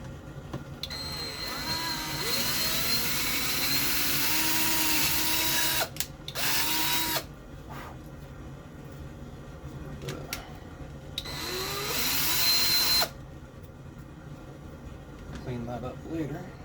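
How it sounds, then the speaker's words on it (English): A power drill with a 7/32 bit bores holes for a snare drum mount, whining loudly in two long bursts and a few short ones, with softer handling noise in between. "I think I'm going to try this 7/32 bit first and then move up to a 1/4 inch if that's not big enough"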